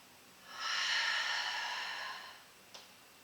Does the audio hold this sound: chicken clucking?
no